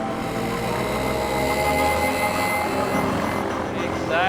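Small airplane with a duct-tape repair flying past, a steady engine drone that stays loud throughout with a rising whine near the end.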